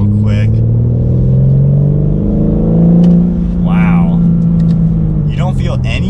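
A 2021 BMW M4 Competition Coupe accelerates onto a highway, its engine drone rising and swelling steadily at close range inside the cabin, with someone talking over it throughout.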